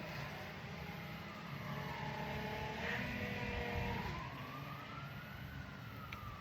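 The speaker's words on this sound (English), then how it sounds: "The big truck's making noises." A forklift truck's engine runs nearby as a steady drone, with whining tones that slowly rise and fall over a broad rumble at moderate, even loudness. No one speaks.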